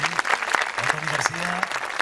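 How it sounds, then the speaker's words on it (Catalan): Audience at an outdoor havaneres concert applauding musicians as they take the stage, sustained crowd clapping with someone speaking over it through a loudspeaker. "aplaudiments per tots ells que van pujant"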